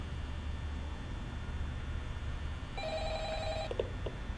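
In the Five Nights at Freddy's video game, a telephone rings with a short electronic tone burst over a constant low background hum, heard once near the end, with no voices.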